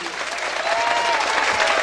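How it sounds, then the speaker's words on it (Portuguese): Warm applause from a crowd at a municipal anniversary celebration in Palmeiras, a steady, dense wash of clapping held at even loudness across the short stretch. "deem uma salva de palmas bem calorosa para o nosso amigo, parceiro, companheiro de todas as horas, Neto Palmeiras"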